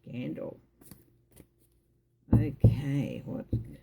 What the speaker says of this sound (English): So we'll just shuffle a couple more times